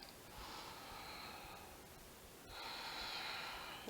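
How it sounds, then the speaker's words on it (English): A deep, slow exhale during a yoga pose, close and breathy, followed by another long airy breath. "One more big exhale. Now one more full breath."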